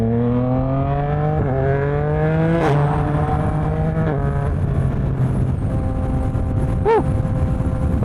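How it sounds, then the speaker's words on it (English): A 2026 Yamaha R9 motorcycle fitted with a Dominator GP3 full-system exhaust idles and revs loudly while warming up, its engine note rising and dropping, with a sharp pop or crackle from the exhaust near the end. "as the bike's warming up, I think the pops are starting to show"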